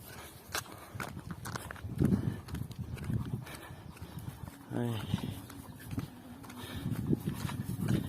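Horse hooves clip-clop in a loose, uneven rhythm close by, with someone talking over them throughout.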